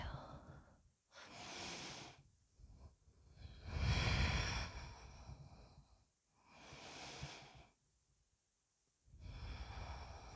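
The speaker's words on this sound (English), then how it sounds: "Take a deep breath." Deep yoga breaths, slow and close, each a broad airy rush about a second or more long, separated by short quiet gaps in an unhurried inhale-exhale rhythm with no talking.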